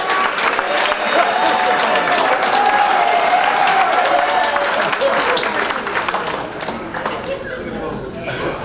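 Applause from a football banquet audience, loud and steady across the room, dense clapping with a few voices mixed in, easing slightly toward the end.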